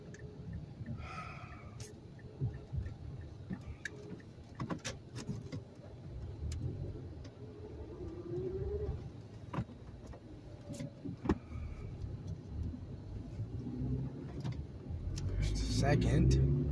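A manual-transmission car engine hums and builds as the driver works up through the gears on the road, under near-constant talk, with small cabin clicks and a louder engine surge near the end.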